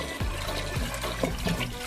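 Tap water running steadily while dried peas are rinsed in a bowl, a continuous close splashing flow with a few bubbling gurgles, no talk.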